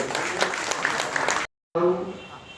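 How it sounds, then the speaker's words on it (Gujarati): A seminar crowd claps loudly in a dense, steady burst of applause, which cuts off abruptly before a voice begins speaking. "આપણે જોરદાર તાળી પાડી"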